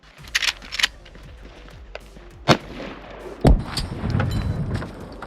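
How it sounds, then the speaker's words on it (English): Real firearms modeled on Call of Duty weapons fire a few sharp, loud single shots at a shooting range, spaced irregularly with short echoing tails and some outdoor rumble between them. "today we're shooting Call of Duty guns in real life"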